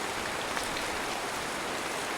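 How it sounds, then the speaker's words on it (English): Heavy rain pounds against windows on a stormy night, a dense, loud, unbroken hiss of water with no voices. "Sheets of water pounded against the windows, and the wind howled like a wild animal."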